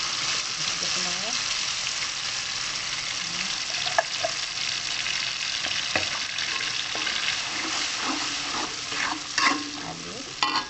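Blended spice paste sizzles and crackles in a hot pan while being stirred, steady frying hiss with scraping spoon sounds and occasional louder clatters near the end.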